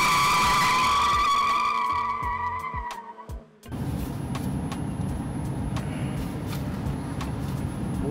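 A Mini Cooper driven fast, loud tire skid and engine whine for the first few seconds, a brief dip, then steady road roar with rattling as the car keeps moving.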